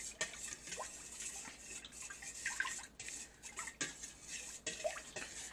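Vinegar and pepper are mixed together in a bowl for homemade Tabasco-style hot sauce, with soft, irregular scraping, wet stirring and light utensil clinks, faint and close.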